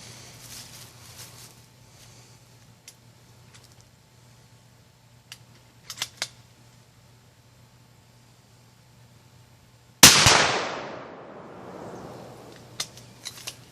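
A rifle shot sets off a homemade 40-gram Tannerite target outdoors, one sudden loud blast whose rumble trails off over a couple of seconds after a quiet stretch with only faint small noises.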